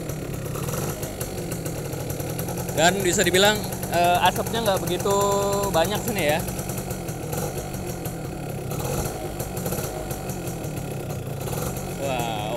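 A 2004 Yamaha F1ZR two-stroke motorcycle engine idles steadily at close range, its low, even rumble running beneath someone talking throughout.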